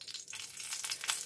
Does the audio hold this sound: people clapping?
no